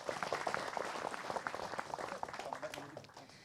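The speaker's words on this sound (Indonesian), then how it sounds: "Tepuk tangan dulu dong Bu." A studio audience claps together on an Islamic religious television program, a dense, steady burst of applause that fills the room at close range and tapers slightly toward the end.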